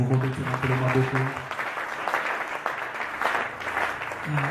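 A church congregation applauds and cheers in praise of Jesus, a steady wash of clapping that runs the whole time, with voices and some sustained vocal or instrumental tones under it early and again at the end.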